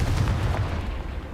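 A Confringo blasting spell goes off in Hogwarts Legacy, a dense, booming burst with heavy low rumble that holds steady for over a second before easing.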